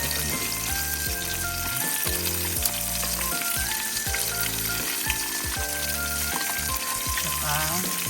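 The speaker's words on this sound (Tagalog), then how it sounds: "So ito ang aming breakfast sa camp. Cheesy Hungarian sausage." Cheesy Hungarian sausages frying for breakfast at a campsite, a steady close sizzle and crackle of fat running throughout with music playing over it.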